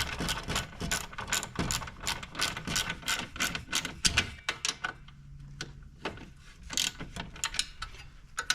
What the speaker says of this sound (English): So now we've got 2 10mm wrenches, one either side. We just lock this in.